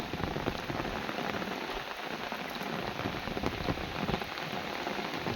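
A heavy monsoon downpour over farmland near Thikariyala village, a dense, loud, unbroken hiss of rain pelting surfaces close by, with no voices.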